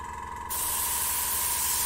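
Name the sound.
airbrush spraying paint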